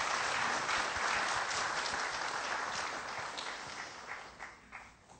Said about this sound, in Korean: 여러분 다시 한번 장혁표 전 총장님께 축하의 박수 한 번 더 부탁드립니다